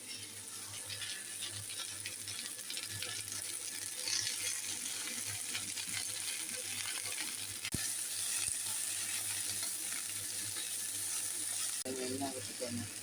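Two dried red chillies frying in hot oil for a green chutney, a steady soft sizzle that runs throughout at a low level, with a brief clink near the end.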